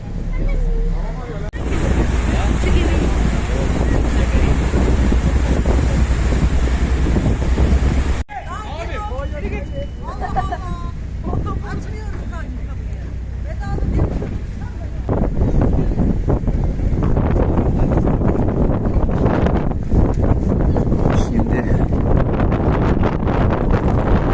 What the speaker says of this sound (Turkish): Bayağı bir esinti var burada.